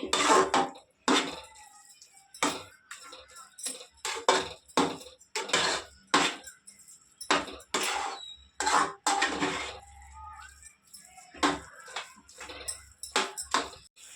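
A spoon stirs motichoor laddu mixture with ghee in a metal pan, making repeated scraping clatters in an uneven rhythm, close and clear, with quiet pauses between strokes.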